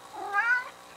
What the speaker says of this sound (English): Walks in here and I greeted him and he stopped to say meow